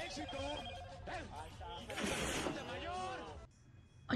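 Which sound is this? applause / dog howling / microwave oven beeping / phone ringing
phone ringing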